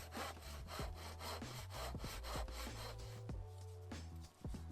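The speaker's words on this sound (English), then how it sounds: "make the rip cut across the slope with the tenon saw" Tenon saw rip-cutting wood for a potting-up tray, rapid rhythmic rasping strokes back and forth, close and steady with no talk.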